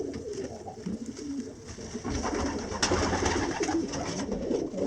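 Racing pigeons in a loft with birds sitting on eggs, soft cooing and rustling throughout, steady and fairly close, with a brief flurry of wing flaps partway through.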